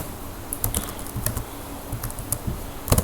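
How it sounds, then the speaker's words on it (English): Keys on a computer keyboard clack in quick irregular bursts, close and fairly quiet, as text is typed at a Linux terminal. "We type the IP address, then home, and then technician"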